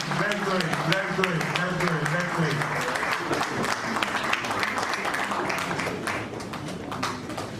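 Audience applause at the launch of the Central Expo 2025, sustained clapping from a crowd filling the whole stretch, with a voice speaking over the start before the clapping carries on alone.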